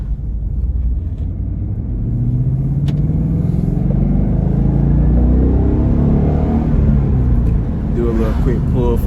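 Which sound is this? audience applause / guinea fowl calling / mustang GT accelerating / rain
mustang GT accelerating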